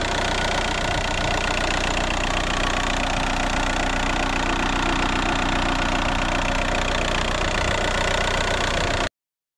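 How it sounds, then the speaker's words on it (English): A 2004 Volkswagen Jetta TDI turbo diesel engine idles steadily up close, a loud, even diesel clatter with a constant knocking rhythm and no talking. "Here's our turbo diesel engine."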